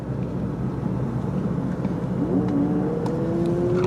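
A BMW 114D diesel hatchback accelerating hard, its engine note rising steadily in pitch as it pulls, loud and close with broadband road and wind rumble throughout.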